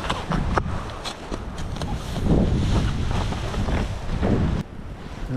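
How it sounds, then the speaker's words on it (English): Strong storm wind rushes across the microphone on a Cape Breton headwaters paddling trip, a loud continuous roar with gusty swells and buffeting, along with some water and boat noise. "Wind's still ripping"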